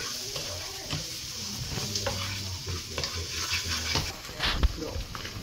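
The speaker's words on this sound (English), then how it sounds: "let me just stir this around" A spoon stirs coconut curry with brown sugar in a pan, close, soft scraping strokes over a quiet sizzle, with a person talking through part of it.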